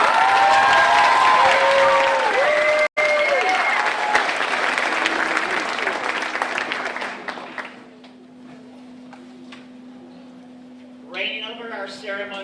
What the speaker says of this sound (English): Please greet these girls with a hearty applause.